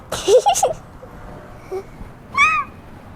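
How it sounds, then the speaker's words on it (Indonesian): A tame cat inside a museum gives a short meow, a brief rising-and-falling cry heard alone near the end, after some faint murmured voices at the start. "Malah ada kucing"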